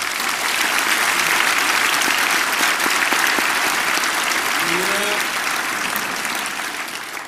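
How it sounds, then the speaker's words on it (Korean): A church congregation applauds to welcome a visiting pastor, with dense, sustained clapping from a large crowd in a hall that holds steady and then slowly fades. "이번에 나오실 때 감사하는 마음, 격려하는 마음으로 박수로 환영해 주시길 바랍니다"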